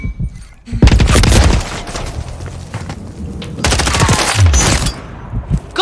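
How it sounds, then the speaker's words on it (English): Call of Duty MW III firefight: a grenade explosion and sustained bursts of automatic gunfire, loud and close, with dense overlapping shots filling most of the stretch. "Frag out! Grenade out!"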